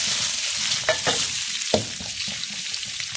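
Shrimp tossed into a hot pan with fragrant garlic, stir-fried to a steady loud sizzle broken by a few sharp scraping stirs of the spatula.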